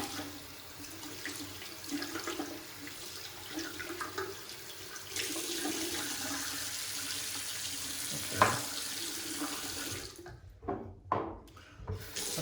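Tap water runs steadily into a sink as a shaving brush is rinsed out, a constant hiss with a change in flow midway, then a few splashes and brief gurgles near the end.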